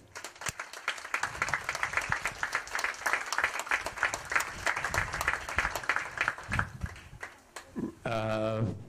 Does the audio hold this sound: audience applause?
yes